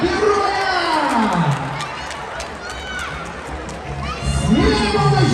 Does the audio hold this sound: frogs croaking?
no